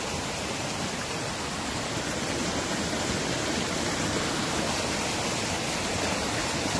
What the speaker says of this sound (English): Little mountain creeks do this. You get some rain, they go crazy.